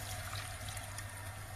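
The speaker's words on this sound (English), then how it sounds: "And then I add hot water." Hot water pours steadily into a pot of chicken-stock rice soup (arroz caldo), a soft continuous splashing and trickling that stays faint throughout.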